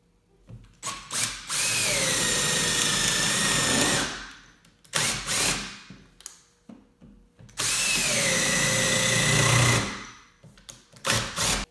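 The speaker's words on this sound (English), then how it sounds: "I'll just drill it out with a spade bit and then chisel it out with a screwdriver" A power drill with a spade bit whines loudly through wood in two long bursts of several seconds each, with short knocks and pauses between.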